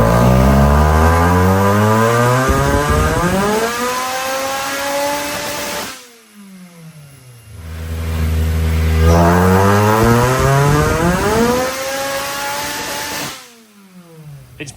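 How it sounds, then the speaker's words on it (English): A supercharged Honda K24 engine on a dyno revs hard twice, each loud sweep climbing steadily in pitch for several seconds before cutting off sharply, with a brief quieter pause between the pulls. "let's get this thing on the dyno, see where we are boost wise"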